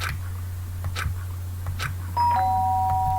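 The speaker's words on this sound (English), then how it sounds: "The sharp sound of the doorbell pierced my sleepy haze and pulled me back to the real world." A doorbell in the video game Danganronpa: Trigger Happy Havoc chimes once with clear electronic tones, ringing over a steady low hum and faint background ticks.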